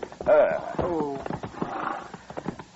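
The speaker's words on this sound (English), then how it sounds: "Ease up, Chester, so we don't scare the horse." A horse hitched to a buggy whinnies near a bridge with a strong rising-and-falling neigh, while people talk quietly around it.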